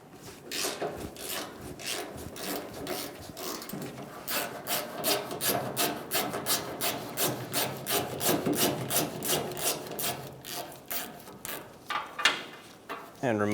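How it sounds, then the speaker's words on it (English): A T40 bit works the tailgate cable bolt on a 1988-1999 GMC K1500 truck, making a rapid series of rhythmic ratcheting clicks, close and fairly steady, with brief pauses between bursts. "Using a T40 bit, we're going to remove the bolt for the tailgate cable."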